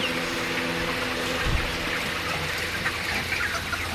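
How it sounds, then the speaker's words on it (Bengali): Backyard chickens cluck steadily on a hot midday of about 34 to 35 degrees Celsius, a soft continuous flock murmur with a short louder burst near the middle and no talking. "আবারও আরেকটি ভিডিওতে আমার মুরগিগুলোকে নিয়ে আমি আপনাদের মাঝে চলে এসেছি।"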